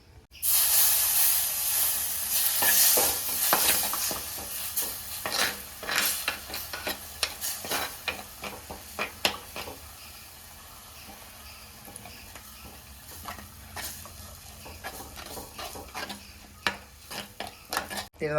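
Kudampuli tamarind water poured into sizzling masala for a milk shark curry, then stirred: a loud hiss at first, easing into steady frying sizzle with repeated scraping stir strokes throughout.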